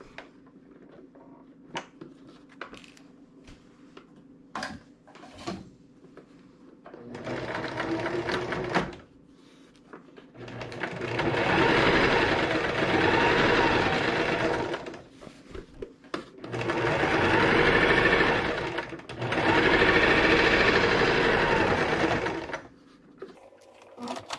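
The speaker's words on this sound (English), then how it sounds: "We'll sew both pockets down and then trim our threads, and our apron will be complete." Sewing machine stitching pockets down onto a fabric waist apron, running in three long steady bursts after a stretch of light handling noise, close and loud with no talking over it.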